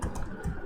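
Quick bursts of keystrokes on a computer keyboard while writing C code for a doubly linked list, several close, soft clicks in rapid succession with no talk over them.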